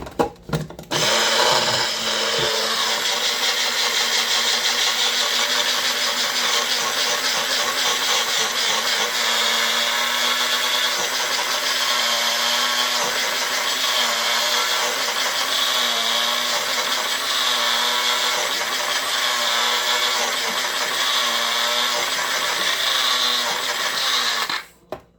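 A loud kitchen blender, used while making oatmeal brownies with zucchini and banana, whirs continuously at a steady high pitch for over twenty seconds before switching off.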